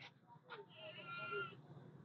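Goats at a livestock market bleat faintly from a distance: two short calls, then a longer wavering bleat, set against a quiet background murmur.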